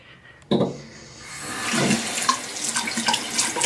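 Tap water runs from a bathroom faucet onto a toothbrush before brushing, starting with a sudden splash and settling into a steady close hiss of flowing water.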